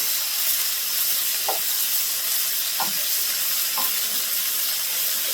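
Scallops searing in a hot pan give off a loud, continuous hissing sizzle, with a few soft knocks from the pan or utensil spaced a second or so apart.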